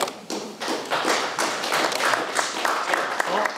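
Audience applause at a county candidates forum, a sustained patter of many hands clapping at fairly close range with uneven rhythm, with light speech underneath.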